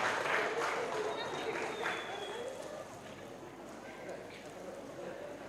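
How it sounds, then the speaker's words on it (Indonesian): Audience applause at a religious moderation seminar in Cirebon, a steady wash of clapping from a crowd in a hall, moderately loud at first and gradually thinning out. "Beli aplaus untuk teman-teman kita yang kreatif ini."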